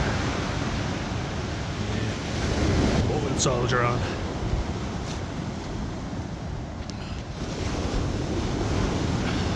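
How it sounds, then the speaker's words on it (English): Incoming tide washes onto the shore in a constant loud roar of surf, heavily mixed with wind buffeting the microphone, while someone talks briefly over it. "these waves are getting very close. Tide's coming right in."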